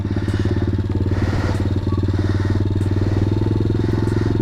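A pit bike motorcycle engine runs steadily during wheelie practice, a loud, close, rattly buzz that holds a constant throttle throughout without pauses.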